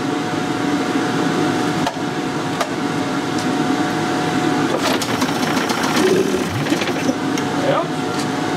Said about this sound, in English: I'm going to turn on the sucker box because it's going to be making some smoke